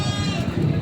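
Dappled, paint-coloured Boer nanny goats at a crowded goat market in Padre Garcia, Batangas, give a steady, sustained bleat, close and fairly loud over a continuous murmur of background voices.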